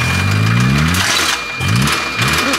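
A car engine revs hard as the gas pedal is pumped, giving a loud, close roar that rises in pitch, dips briefly and then climbs again in two surging pulls.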